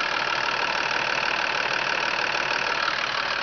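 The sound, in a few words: car engine idling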